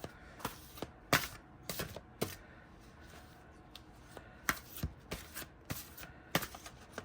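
Tarot cards of the Alchemical Visions deck are shuffled in quiet, irregular bursts, soft papery riffles and slaps arriving in uneven clusters, close by and fairly faint.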